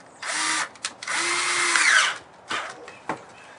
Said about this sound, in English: Using your cordless drill with a 5/16 inch nut driver.